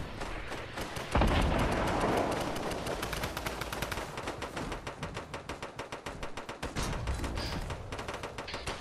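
Rapid gunfire in Fortnite, loud and close, firing in dense repeated bursts with a heavy blast near the start and brief pauses between volleys, with no talking.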